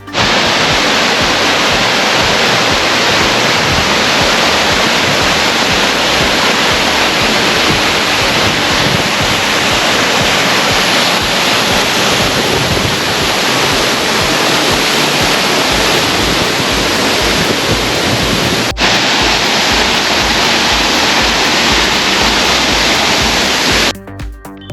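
Mankayam Waterfalls near Trivandrum pours in a loud, continuous roar of falling water, dense and unbroken at close range for the whole stretch.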